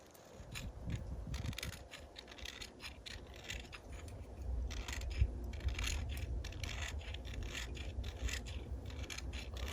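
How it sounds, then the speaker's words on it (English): Metal scraping on a magnesium fire-starter bar with the back of a knife: repeated rasping strokes at close range, a steady gritty scratch with no talking. "What I'm going to do is I'm going to scrape off a bunch of this magnesium here."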